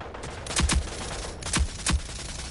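Gunfire in the shooter video game Rogue Company comes as two quick pairs of sharp, punchy shots over a low background hum, with no talking.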